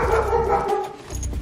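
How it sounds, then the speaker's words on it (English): Dog barking indoors in a room where a teleprompter is being set up, a couple of close, loud barks with no talk. "Don't mind the dog."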